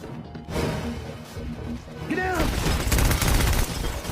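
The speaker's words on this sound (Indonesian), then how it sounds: "tiba-tiba mereka diberondong senjata oleh anak buah Dodi dan Onah" Burst of gunfire from an action film's soundtrack, as gang henchmen open fire on people heading upstairs; loud, dense overlapping shots build after a rumbling buildup and continue steadily to the end.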